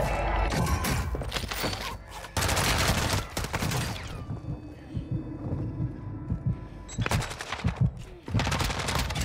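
Single-fire shots from a Lachman 762 rifle in Warzone 2 ring out in sharp separate bursts, loud and close, with quieter gaps of game ambience between them.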